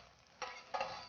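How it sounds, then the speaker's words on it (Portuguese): Garlic sautéing in a little hot olive oil, a quiet steady sizzle with two brief louder bursts of stirring near the start and middle. "E o primeiro a entrar é o alho. vamos refogar o alho."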